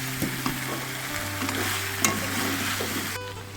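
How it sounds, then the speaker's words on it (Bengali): Mutton sizzles in a pan with whole garlic, cut potatoes and spices, a steady frying hiss with a few light stirring scrapes and a low background hum throughout. "মাংসটা প্রায় কষানো হয়ে গেছে"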